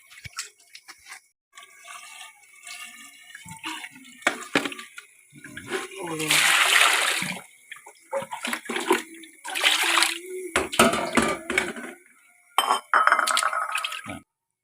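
Fish being washed by hand in salted water while making Lao sour fermented fish: splashing, sloshing water and clinking of a bowl in bursts, close by, with people talking throughout.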